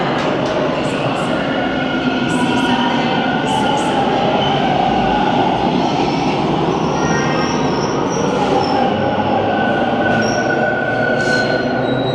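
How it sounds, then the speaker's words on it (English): A subway train pulls out of a Toronto station, a loud, sustained rumble and roar with squealing wheels and metallic screeches rising over the steady din throughout. "Might as well wait for this next train to pull out too."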